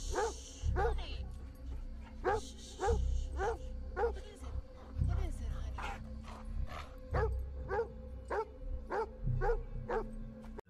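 A dog in a film soundtrack barks in a steady series of sharp, evenly spaced yaps over about ten seconds, moderately loud against a low background rumble.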